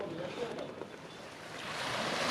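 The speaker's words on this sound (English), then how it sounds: "God, the wind is incredible." Strong wind of about thirty knots blows at sea aboard a sailboat near Samos, Greece, a steady broadband rush mixed with wave wash that grows slightly louder toward the end.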